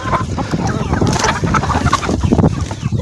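Chickens cluck and chatter close by as they peck at fresh grass, with overlapping short calls and rustling throughout, alongside some talk.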